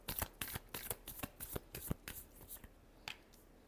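Tarot cards are shuffled close by in a quick run of crisp, rhythmic riffles and taps, each burst short and sharp.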